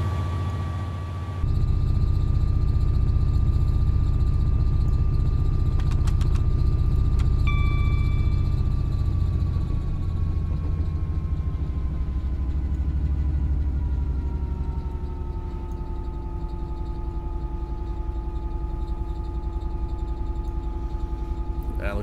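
A Class 66 diesel locomotive runs at full throttle in Train Simulator 2017 on the Felixstowe to Ham Hall route. It gives a loud, continuous low roar with a steady mechanical whine, sustained and unbroken throughout.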